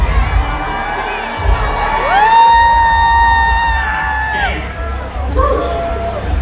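A concert crowd at a 50th anniversary celebration of Hmong American music cheers loudly, with sustained yells, whoops and a long drawn-out shout rising over the roar, close and dense throughout.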